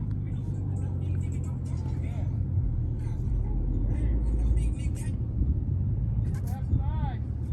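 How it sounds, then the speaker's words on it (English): A loud car drives past a 1971 Chevelle build, its engine rumbling low and steady in the background while people talk over it throughout. "there's a guy driving by and he's all loud"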